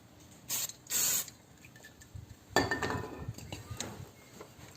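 Brake cleaner sprayed during the restoration of an abandoned Mini Cooper: two short hissing bursts, then a longer spray followed by light metallic clinks, all close.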